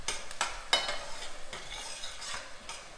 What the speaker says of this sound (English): In goes the garlic. And the garlic only needs to cook until I can smell it.